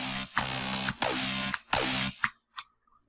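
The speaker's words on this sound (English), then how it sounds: "just sounds like a basic shape, square pulse kind of sound" A basic square pulse tone from a synthesizer plays as a series of loud, close, buzzy sustained notes with short gaps between them, ending in a few brief blips and then silence.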